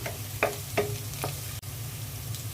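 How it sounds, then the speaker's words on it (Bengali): Sliced onions and green chillies frying in oil in a pan, a steady close sizzle with a few sharp spoon taps and scrapes as they are stirred. "কয়েকটা কাঁচামরিচ দিয়ে দিচ্ছি পেঁয়াজটা হালকা ভেজে নিলাম"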